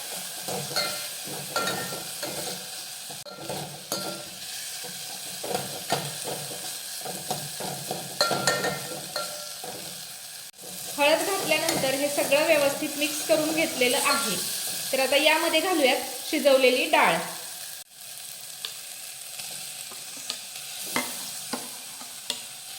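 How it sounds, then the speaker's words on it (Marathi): Tomatoes with turmeric fry and are stirred in a pan, giving a steady sizzle with repeated spoon scrapes and taps; a voice talks briefly over it midway. "टोमॅटो परतून घेतला की आता यामध्ये घालूयात पाव चमचा हळद मिक्स करून घेऊयात"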